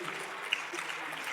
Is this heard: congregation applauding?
yes